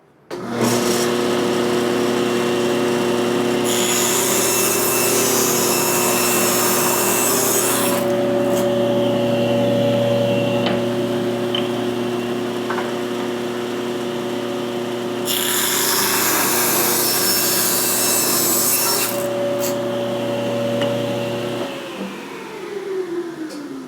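A table saw trims about an eighth of an inch off the top of a wooden Gothic arch birdhouse, cutting loudly with two long bursts of blade whine and a steady motor hum throughout, no voices.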